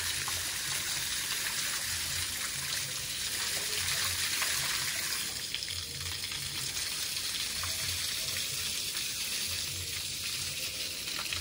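Water running steadily for curing freshly poured concrete at a home construction site, a continuous hissing, trickling flow with a sizzle-like texture that stays even and close throughout, with no voices.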